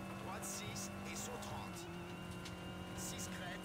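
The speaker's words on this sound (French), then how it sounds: "Le sifflement me plaît un peu plus, c'est plus cohérent par rapport au bruit du moteur" MG rally car in Colin McRae Rally 04 on PS2, engine drone with a steady high turbo whistle, tire noise and bursts of gravel or skid hiss, heard continuously at moderate level.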